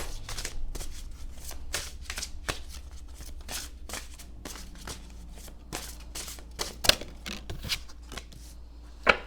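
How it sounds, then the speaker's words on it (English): Tarot cards are shuffled repeatedly in quick papery riffles and taps, a brisk irregular rhythm with a couple of sharper snaps, close and fairly quiet. "Both of these decks are like kind of awkward to shuffle."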